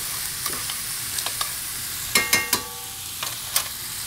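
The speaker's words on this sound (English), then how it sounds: "We're gonna get that nice and toasted in the bottom of this pan." Tomato paste toasting with onions and celery in a pan for braised short ribs, a steady sizzle broken by several sharp scraping stirs, close and fairly loud.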